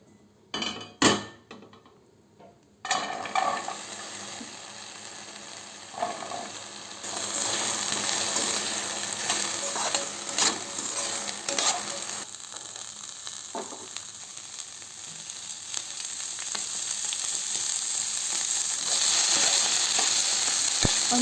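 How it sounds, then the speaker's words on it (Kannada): Fresh green beans frying in a little oil in a pan, a steady close sizzle that swells louder partway through, with occasional clinks of a utensil against the pan and no voices. "ಒಂದು ಬಾಣಲೆಗೆ ಸ್ವಲ್ಪ ಎಣ್ಣೆ ಹಾಕಿಬಿಟ್ಟು ಫ್ರೈ ಮಾಡ್ತಾಯಿದ್ದೀನಿ."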